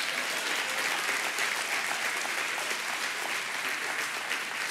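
A church congregation applauds during a sermon service, a thick, even wash of many hands clapping that holds steady throughout with no voices heard.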